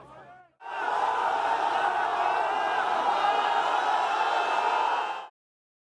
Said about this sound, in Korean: 극적으로 구조된 사람들이 하나둘 나올 때마다 환호가 터져 나옵니다.